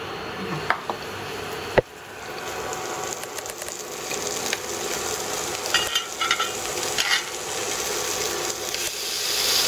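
Streaky pork belly fries in a pan to render its fat, a moderate, continuous sizzle broken by a sharp clack and a few utensil clicks and scrapes.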